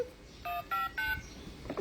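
A grandmother dials a phone at home, its keypad giving several distinct tone beeps in a row, each a short steady pitch, heard quite faintly with little else around.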